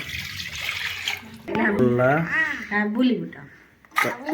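Water goes into a pot for a chana masala made without onion or garlic: a brief, close pouring splash at the start, then a person talking over the rest.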